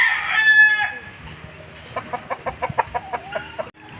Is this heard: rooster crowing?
yes